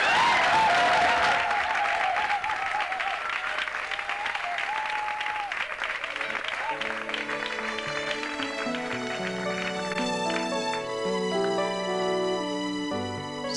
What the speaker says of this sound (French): de notre frère Charles Mombaya, sous les applaudissements du public.